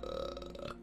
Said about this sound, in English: I have to burp.